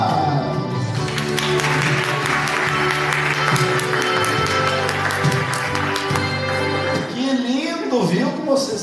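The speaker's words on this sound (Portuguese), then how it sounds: "E palmas!" Audience at a lecture about happiness claps along in a rhythmic pattern while a voice sings or talks over music, the clapping mixed under the louder vocal and tonal sound.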